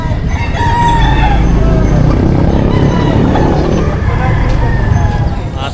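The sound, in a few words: chickens clucking and rooster crowing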